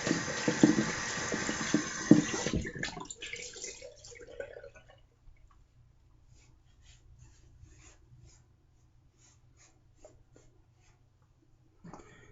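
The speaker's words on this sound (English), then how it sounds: "Cold water rinse." Cold water runs from a tap over a straight razor blade during a rinse, a steady hiss and splash for a couple of seconds that then cuts off, leaving faint clinks and near silence.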